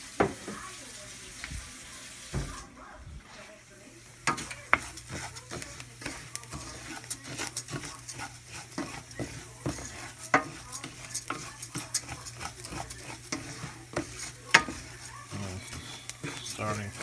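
Chicken for arroz con pollo browns in a pan, giving a soft sizzle under repeated scraping and stirring clatter from a utensil, with a brief burst of running tap water partway through.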